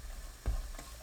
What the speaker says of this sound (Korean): 팬에 올리브유 1큰술, 다진 마늘 1큰술, 파 넣고 약불로 볶습니다.